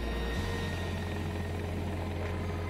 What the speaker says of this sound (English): This is an attack chopper.